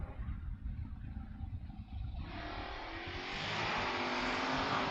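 Drag race cars, a third-generation Camaro and a Mustang, rumble low and then roar louder as they accelerate hard down the strip, with a rising full-band engine wail that swells over the last seconds.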